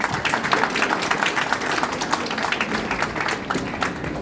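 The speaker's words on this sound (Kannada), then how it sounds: "ಖಂಡಿತವಾಗ್ಲೂ ನಿಮ್ಮ ಶ್ರಮಕ್ಕೆ ಕಡೆಯಿಂದ ದಯವಿಟ್ಟು ಒಂದು ಚಪ್ಪಾಳೆ ಕೊಡ್ತೇವೆ" An audience at a Kannada Rajyotsava celebration applauds: a dense, steady patter of many hands clapping at once, sustained and moderately loud for several seconds with no pause.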